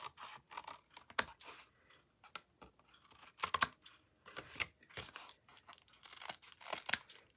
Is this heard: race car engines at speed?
no